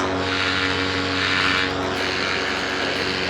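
A paramotor engine and propeller drone loudly and continuously in flight at 9,300 feet in Colorado, a steady, close, buzzing hum with stable tonal harmonics and wind rush throughout.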